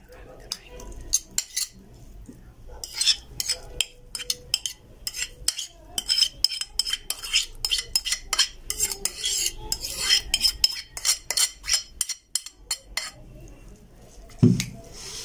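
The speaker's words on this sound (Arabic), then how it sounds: "هقلب بقى كل المكونات دي في بعض" A utensil stirs cauliflower and other ingredients together in a bowl, making close, irregular clinks and scrapes that come in quick bursts with short pauses.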